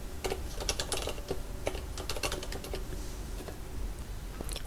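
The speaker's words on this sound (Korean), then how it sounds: "그런 상태에서 타이핑을 아예 치면" Rapid clatter of typing on a computer keyboard while entering spreadsheet text, quick irregular keystrokes close up over a faint steady background hum.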